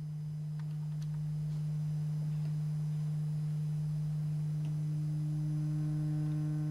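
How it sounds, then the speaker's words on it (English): A steady sine wave tone from a modular synthesizer holds a pure, unbroken low hum throughout a calibration session, with faint higher overtones creeping in as it sustains, and no one speaking. "So we turn up the sine wave."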